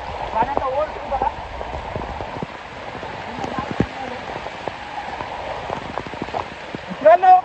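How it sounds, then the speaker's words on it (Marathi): Water rushing down a footpath after heavy rain at Savalya Ghat point in the Sahyadri hills, a steady close gush with patter and splashes, and a voice speaking over it. "तुम्ही बघू शकता कसं खळखळ पाणी वाहतंय या पाऊल वाट्यावरून."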